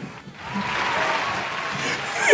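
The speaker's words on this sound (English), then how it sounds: "Come on, clap it up for Coach Roy." A podcast studio crowd claps and applauds steadily, a dense wash of hand claps that swells quickly and holds, fairly close, with no talking over it.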